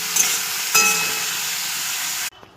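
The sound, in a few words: bitter gourd and potato frying in hot oil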